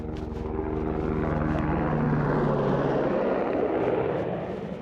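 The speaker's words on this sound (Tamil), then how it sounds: "helicopter taxi கிளம்பிடுச்சு" Helicopter taxi lifting off from an icy Himalayan trail in Nepal's Annapurna mountains: a loud, steady rotor and turbine roar that swells and then slowly fades as it departs.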